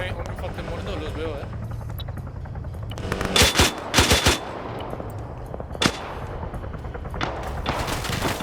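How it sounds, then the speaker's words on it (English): Flechette rounds fired in a multiplayer military combat game, a few heavy bursts of automatic fire and thuds over rumbling vehicle and helicopter noise, with a voice commentating throughout. "Now they're firing those flechette rounds."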